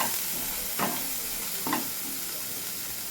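Ginger garlic paste fries with spinach in a pan for palak paneer, a steady soft sizzle broken by two brief scraping stirs of a utensil.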